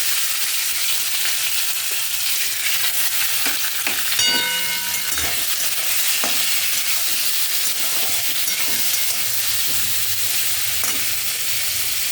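Marinated prawns, coated in mustard paste and a drop of oil, sizzle steadily in a pan while being stirred, with a sharper scrape or clatter around the middle and a constant close frying hiss throughout.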